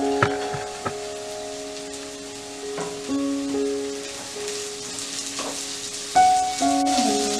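Sliced ingredients fry in oil in a pan for a black pepper chicken roast, a steady close sizzle broken by a few clinks and scrapes of stirring, with no talk.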